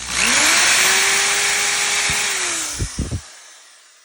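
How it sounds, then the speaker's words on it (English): A small drill whirs loudly for a few seconds, its pitch sagging slightly, then winds down, followed by a few soft knocks before silence. "this is a small drill bit"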